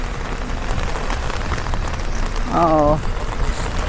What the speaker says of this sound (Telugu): వర్షం చూడండి ఉన్నట్టు ఉండదు, ఒకసారి ఎక్కువైపోయింది.